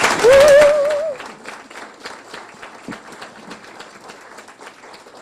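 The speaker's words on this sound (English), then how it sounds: "Let's give our candidates one more round of applause." A round of applause for candidates at a community action council meeting, scattered clapping at moderate distance that fades after a louder burst of sound at the start.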